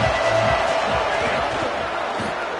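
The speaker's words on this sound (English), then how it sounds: "This crowd trying to show them what it's going to be like all day in this house." A football stadium crowd roars and cheers continuously at full volume, a dense wall of noise from the home fans before a play.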